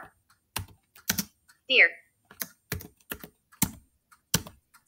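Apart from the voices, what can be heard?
typing on a computer keyboard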